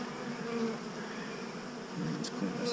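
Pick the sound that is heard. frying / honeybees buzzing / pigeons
honeybees buzzing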